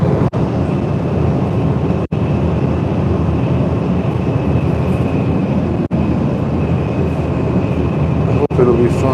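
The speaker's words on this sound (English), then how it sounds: "Shinkansen is really rocking around right now because we're doing a lot of twists and turns right now." Steady loud rumble and rolling noise inside a Shinkansen bullet train running from Tokyo to Nagoya, continuous with brief dips, a faint tonal whine above the roar, and a voice talking over it.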